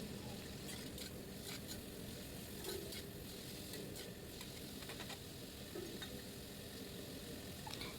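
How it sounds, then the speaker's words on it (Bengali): Leafy greens stir-fried in a pan with onion, a steady sizzle and scraping stir running throughout with scattered clicks of the utensil against the pan, fairly faint and with no talking. "এবার দেখো আমি এতে শাকগুলো দিয়ে দেবো দিয়ে ভালো করে নাড়াচাড়া করবো যতক্ষণ না শাক থেকে জল বেরোচ্ছে"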